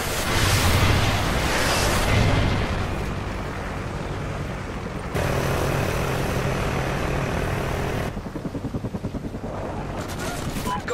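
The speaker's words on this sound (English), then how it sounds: "Friendly chopper inbound." Loud whirring helicopter rotor with roaring engine noise and bursts of gunfire-like blasts from Call of Duty: Ghosts, a friendly chopper arriving, the rotor chop growing distinct toward the end.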